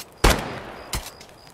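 Two sharp suppressed Glock shots with a drum magazine in a video game, sounding in a loud burst then a second softer report with a brief decaying tail.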